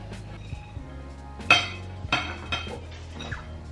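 Ingredients tipped into a bowl of tofu, onion and kimchi for vegan kimchi buns, with a few clinks and knocks of utensils against the dish, close and fairly quiet.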